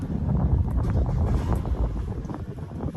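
Twin Yamaha 250 outboard engines start up on a 2021 Sea Hunt Gamefish 27, giving a loud, steady low rumble that holds throughout with no break.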